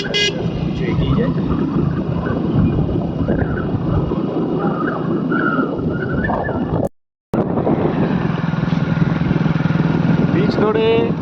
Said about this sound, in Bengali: বিচ ধরে এখন বাইকে করে এগিয়ে চলছি।